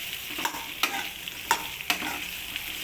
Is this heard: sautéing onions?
yes